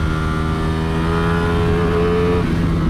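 Ducati Streetfighter V4S motorcycle engine on a race track, a loud sustained roar with steady high revs and a slight pitch shift, close and continuous with no talking.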